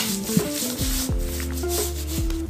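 Hands rubbing salt into salmon roe during curing, a close, continuous rough rubbing and squishing with short strokes, loud and steady for a couple of seconds with no talk.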